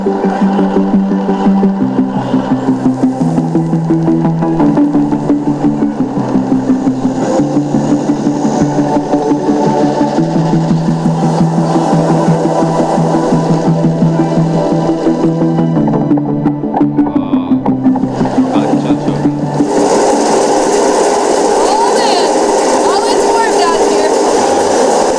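An old paddle-wheel cruise ship's exposed engine runs steadily up close, a droning mechanical rumble with a rotating rod driving the paddle, with a brighter hiss entering near the end.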